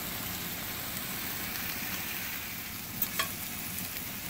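Teriyaki salmon and Brussels sprouts sizzle and fry steadily in a skillet on an outdoor grill, giving a constant hissing crackle with a couple of brief louder pops near the end. No voices are heard.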